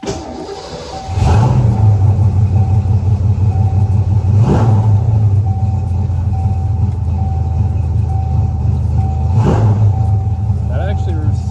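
A 1986 Ford Mustang GT with its firing order changed cranks and catches after about a second, then settles into a loud, steady idle with a few sharp blips standing out.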